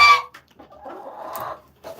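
Chickens cluck in a coop during hand feeding, a few close squawks and a longer throaty cluck in the middle, separated by brief silences, with no talk.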